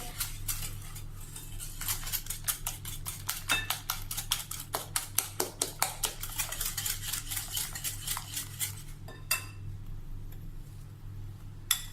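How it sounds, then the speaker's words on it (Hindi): Sugar is whisked into walnut cake batter in a bowl, a fast run of crisp rhythmic clicking and tapping of the whisk against the bowl over a low steady hum, slowing and fading near the end. "स्टेप बाय स्टेप चीनी डालते जाएंगे और फेंटते जाएंगे।"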